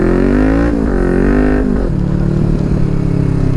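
Loud, close engine roar from a Kawasaki Ninja 400 with an Akrapovic exhaust, accelerating with a pitch that climbs and shifts as it pulls through the gears, dense and continuous throughout.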